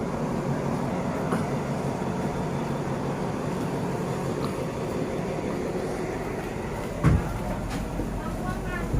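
Trains rumble past on a Thai railway line during the afternoon, a steady rolling roar of wagons with faint clicking from the rails and one brief louder knock, heard close and continuous throughout.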